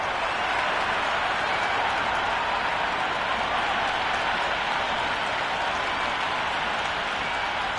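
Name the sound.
cricket stadium crowd cheering and applauding before IPL match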